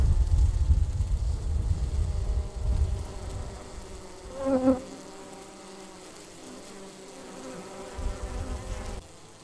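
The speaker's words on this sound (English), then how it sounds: "it's not unusual to have workers at the entrance fanning their wings and helping with circulation" Honeybees buzz at a hive entrance during an August inspection, workers fanning their wings in a steady close drone with a brief louder swell of a bee passing near, wind rumble underneath.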